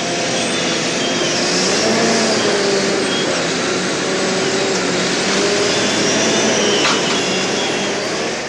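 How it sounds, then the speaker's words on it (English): Logging truck and trailer combination hauling huge logs, a steady broadband engine and road roar heard continuously at moderate loudness with no talk. "the huge logs make the trip on logging truck trailer combinations, which carry around 60 tonnes at a load"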